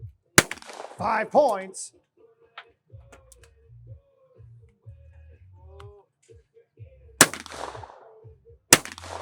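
Shotgun blasts at an SCTP team trap shooting shoot-off: three sharp, loud, isolated reports spaced seconds apart, with a scoring announcer's voice and quiet range noise in between.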